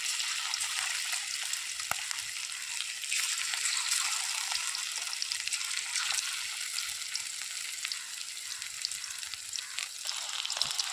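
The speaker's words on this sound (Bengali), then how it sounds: "কড়াইয়ের তেলটা গরম হলে এক করে চিকেনগুলো দেবো।" Continuous crackling sizzle of chicken pakora pieces frying in hot oil in a kadai, close and fairly soft, with scattered pops and light stirring sounds, no talking.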